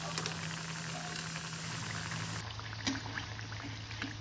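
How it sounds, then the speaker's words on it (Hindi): Kachori dough balls fry in medium hot oil, a steady soft bubbling and sizzling hiss that continues evenly throughout, close and fairly quiet with no voices. "और अब हम इन्हें मीडियम हॉट ऑयल में फ्राई कर लेंगे।"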